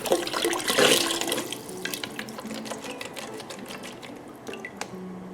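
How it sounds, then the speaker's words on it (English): Water splashes and runs from a chicken broth container into a pot of potato soup, loudest at first, then settling into lighter trickles and drips with a few small clinks. "I'm going to fill the chicken broth container up halfway with water and add that to it"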